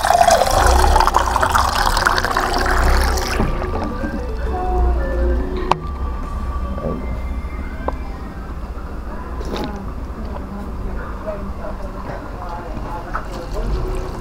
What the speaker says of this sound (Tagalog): Parang kailangan ko siyang dagdagan ng tubig. Lagyan natin ng tubig.